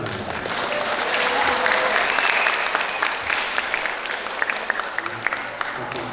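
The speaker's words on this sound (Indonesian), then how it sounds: "boleh tepuk tangan sebenarnya" Applause from a school graduation audience in Sleman, a steady wash of many hands clapping that swells and then tapers over several seconds, with a few sharper claps standing out near the end.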